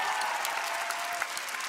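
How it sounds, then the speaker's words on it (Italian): A talent-show theatre audience gives a singer a standing ovation, with dense, loud, steady applause filling the hall for the whole stretch, without talk. "Complimenti, peccati l'applauso, meritatissimo, e questa standing ovation."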